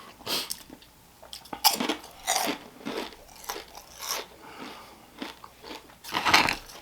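Close, loud crunching of 3D Doritos chips being bitten and chewed, with about a dozen sharp crisp bites and chews in an uneven rhythm and no talk in between.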